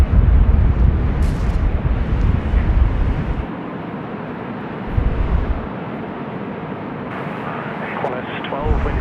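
A Velocity airliner departs Sydney Airport on windy runway 25, its broad jet engine roar rumbling steadily throughout while people talk over it.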